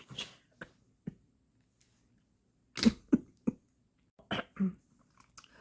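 A few short, sharp coughs and throat-clearing bursts, close and separated by quiet pauses, with no speech.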